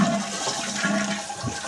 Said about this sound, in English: let's give her a flush and I will show you